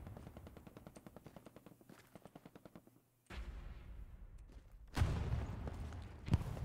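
Machine gun fire in the WWII shooter Hell Let Loose, a rapid regular burst of shots for about three seconds, then a pause and heavier, louder blasts and rumbling battle noise, fairly distant and quiet overall.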